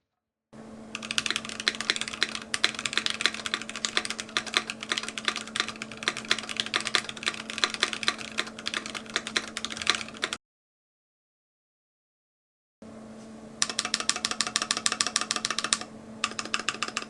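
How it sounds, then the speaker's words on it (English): Typing on a stock Keychron Q1 mechanical keyboard, a rapid run of close, clacky keystrokes with a faint hum underneath. A short silent gap breaks the run before fast typing resumes, heard alone. "But let's do a typing test."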